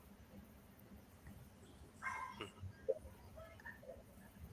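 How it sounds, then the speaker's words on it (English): A dog jumps up at a leg and whimpers during a video call, giving a few faint, high whining yips in a short burst partway through over a quiet room. "My dog right now, she's actually jumping on my leg and screaming."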